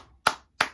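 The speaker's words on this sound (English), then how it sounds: "And clap." Two sharp hand claps spaced about a third of a second apart, close and clear against silence, during a children's movement exercise.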